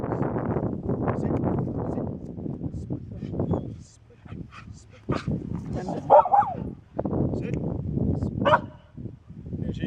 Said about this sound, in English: command for them to bark, which is speak for themselves